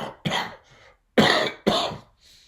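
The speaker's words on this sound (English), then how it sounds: "I start going into pretty severe coughing spasms" Harsh, separate coughs from a person with a bad coughing spell, four close bursts, the first pair and last pair each tightly spaced, with a brief silence between them and a faint breath at the end.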